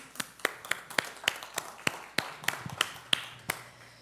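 A single person claps slowly at the close of a public forum, about a dozen sharp, evenly spaced claps heard close and clear in a quiet room.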